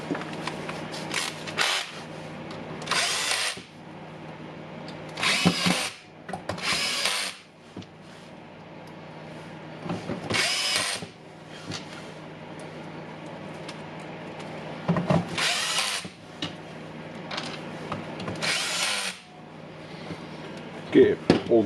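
A cordless power driver runs in repeated short bursts, about eight whirring runs separated by pauses, while screws are driven into a Makita DSS610 18V LXT circular saw during a burned terminal repair, with handling noise between bursts.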